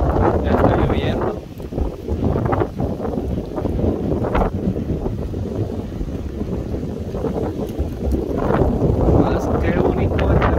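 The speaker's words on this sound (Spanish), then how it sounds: "Más que bonito ventarrón, qué bonito ventarrón." Strong wind gusts buffet the microphone in a steady rumbling roar as rain begins, swelling and easing over several seconds while a voice talks underneath.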